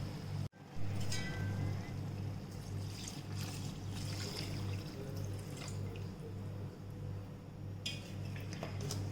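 Water pours into a pot holding about 2.5 cups of millet, a steady close trickle and splash lasting several seconds, with faint clinks of cookware.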